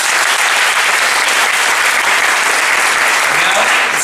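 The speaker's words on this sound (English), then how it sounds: "one more round of applause" An audience at a grand opening ceremony for a family treasures exhibition gives a dense, steady round of applause, loud and sustained throughout.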